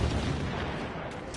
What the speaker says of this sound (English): We're getting kind of blown up all around us